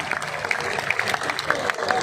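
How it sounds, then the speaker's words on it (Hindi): Crowd at a Rajput political rally clapping on cue for men who marked Maharana Pratap's birth anniversary on the road; a steady, moderately loud patter of hands with some voices mixed in, brief and continuous. "इनके लिए सब तालियां एक बार बजावें।"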